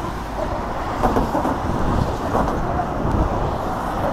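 Strong wind buffets a microphone on the Golden Gate Bridge while someone rides across on an electric unicycle. A steady, close roar with gusty swells fills the whole stretch, and no voice is heard.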